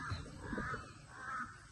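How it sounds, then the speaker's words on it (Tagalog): A crow caws twice, harsh and rasping, at moderate distance over a low background hum, near coconut palms in a rural Philippine province. "O, may uwak pa oh, ibon."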